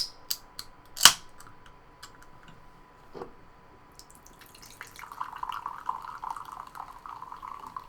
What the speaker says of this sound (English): that's the soda. It's pouring into the cup.